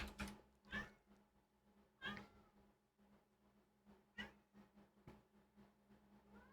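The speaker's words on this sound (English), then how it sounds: "If you hear my cat in the background" A house cat meows several times nearby, drawn-out plaintive cries spread across the moment, with a faint low hum from a computer game session underneath and no talk over it.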